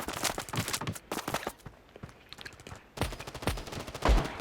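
Suppressed sniper rifle shots in the Standoff video game crack out in a quick series of sharp, close reports with short gaps between bursts, loud against the game's background.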